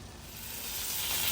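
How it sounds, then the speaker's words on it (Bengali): Potatoes and eggplant frying in a pan give a steady, dense sizzle that grows slightly louder over the short stretch, close and alone with no voices. "আলু আর বেগুন ফ্রাই করে নিচ্ছি"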